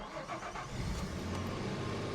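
An off-road vehicle's engine cranks and catches, a close, rough mechanical churn that settles into a low steady running rumble.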